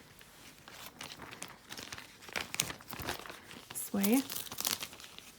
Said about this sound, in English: So this one's tiny, so there will be a lot more folding with this one.